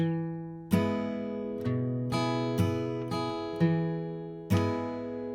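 An acoustic guitar plays the opening figure of a song, with six firm strums and bass-note plucks ringing out one after another, solo and close.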